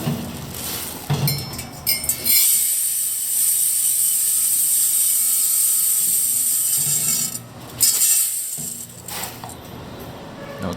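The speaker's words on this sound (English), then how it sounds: "we're going to test this filling machine" A sachet packaging filling machine runs with rice, giving a loud steady mechanical whir and hiss with ratcheting clicks, briefly pausing and restarting near the end.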